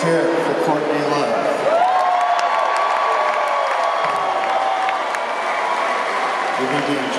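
A rock concert crowd in Holmdel, New Jersey cheers and shouts for a performer after a song. Steady roaring crowd noise runs throughout, with sustained ringing instrument tones gliding over it.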